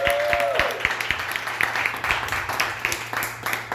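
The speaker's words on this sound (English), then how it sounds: "Big round of applause for Dave." A comedy club audience claps in a moderate, scattered round of applause, with individual claps distinct over a low steady hum and a brief voice near the start.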